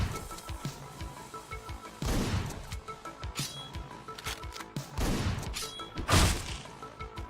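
Gunfire and impacts from the video game Hotline Miami 2 burst out in loud, punchy volleys with crashes and thuds over busy game audio.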